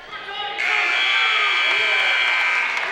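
At a high school wrestling match, a loud, steady buzzer sounds for over two seconds in the gym over crowd noise and a commentator's voice.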